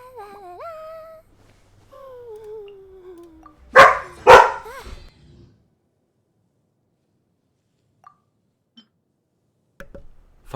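A dog in Genshin Impact whines with rising and falling tones, then gives two sharp, loud barks in quick succession. Near-silence follows with a few faint ticks.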